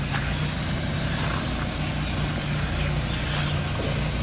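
A car engine runs steadily in snow in Pahalgam, Kashmir, while the vehicle is turned around in a tight space, a constant close hum and rumble with no speech.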